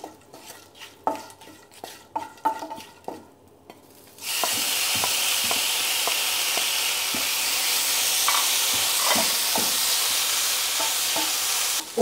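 Fish tossed with turmeric, chilli and pepper powder and salt in a pan: a few sharp utensil scrapes and knocks, then a loud steady sizzle of frying that fills the rest, with occasional stirring clinks on top.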